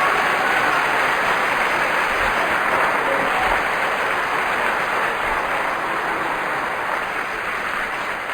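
Applause from a church congregation during a sermon fills the stretch as a steady, dense broadband wash, loud and continuous throughout, with no talk over it.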